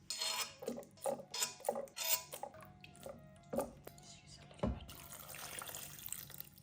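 Water runs from a tap into a blender while dishes and utensils clink and clatter in several sharp knocks, then a steady wash of flowing water continues.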